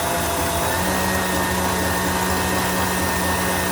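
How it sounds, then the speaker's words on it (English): An electric hand mixer on speed 8 whisks a cooled caramel apple king cake mixture in a bowl, a steady, loud, continuous motor whir that holds without a break from start to finish. "Okay, so I'm going to whisk this now."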